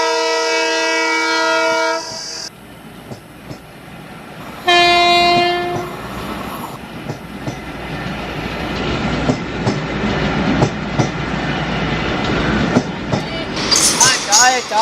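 A Shatabdi Express train sound effect for a stage drama: two long, loud horn blasts, then the rumbling, rattling rush of carriages passing close by, with rising clatter toward the end.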